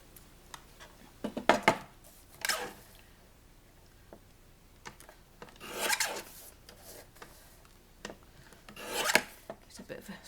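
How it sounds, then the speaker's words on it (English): Paper trimmed down with scissors or a trimmer for a mini folder, heard as several short, separate rasping cuts in a quiet room, close and fairly soft, with no talking. "so we'll just trim that down"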